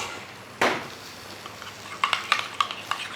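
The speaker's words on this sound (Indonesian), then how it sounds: "Kita aduk-aduk aja." A spoon stirs a simple homemade dip of ground fresh garlic and chili sambal in a bowl, with one sharp clink followed by a series of light, irregular scraping taps, close and alone.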